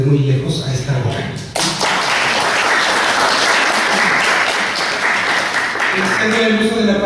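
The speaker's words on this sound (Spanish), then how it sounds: "Les pido un aplauso para nuestro conferencista" A conference audience breaks into sustained applause for a keynote lecturer after a voice speaks briefly, the clapping dense and steady until the clip ends.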